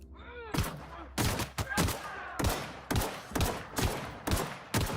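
Gunfire in The Outer Worlds rings out in a series of loud, sharp shots at irregular intervals, each burst close and punchy, with a short vocal sound at the start.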